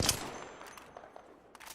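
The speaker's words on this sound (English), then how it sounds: "They're taking pot shots at us." Gunfire in the Apex Legends video game, a sharp burst of shots at the start followed by fainter scattered pops, no talking.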